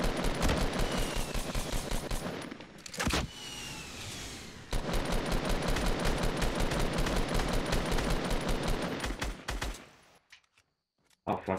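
Dense automatic gunfire in a Fortnite firefight, loud rapid bursts running almost continuously with one brief pause, then cutting out near the end, with a voice talking amid the shooting.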